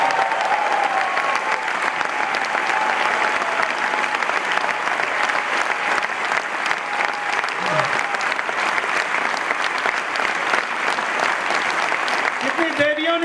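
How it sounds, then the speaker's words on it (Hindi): A large audience at an Amway Diamond success celebration claps steadily and loudly for Kiran, a dense unbroken wash of applause lasting the whole stretch, with voices briefly in the mix. "जोरदार तालियां किरण के"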